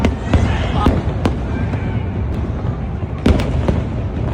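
Repeated sharp bangs and crackles from a Singapore National Day fireworks display, loud and irregular, over a constant crowd murmur.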